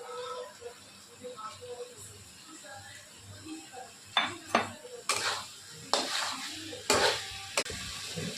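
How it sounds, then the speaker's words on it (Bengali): Paneer cubes go into a pan of tomato sauce, followed by a soft sizzle and a series of sharp spoon scrapes and clacks against the pan, getting louder toward the end, with a voice talking quietly early on. "এবার আমি পনিরটা ছেড়ে দিলাম।"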